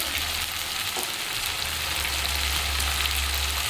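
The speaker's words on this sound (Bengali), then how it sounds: "পরিমাণ মতো হলুদ দিয়ে বন্ধু আমি এটা ভালো করে একটু কষিয়ে নেবো" Mutton with tomato paste, chili powder and turmeric sautéing in a pan, a steady, close, continuous sizzle and frying hiss that stays even throughout with no talk.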